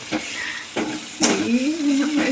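Onions frying in a pan with salt for paneer pepper fry, a soft steady sizzle with stirring scrapes and a few clattering knocks of a spoon against the pan, close and moderately loud.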